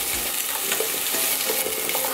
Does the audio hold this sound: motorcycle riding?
no